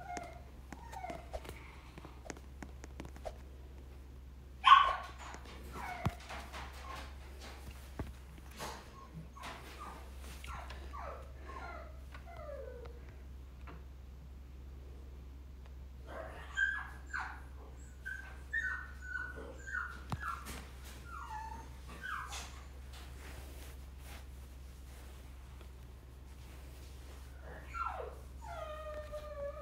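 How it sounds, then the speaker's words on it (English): A pet dog whimpers, yips and gives short barks in scattered bursts over half a minute, fairly faint and indoors over a steady low hum, with one sharper bark early on. "That's just my dog, by the way."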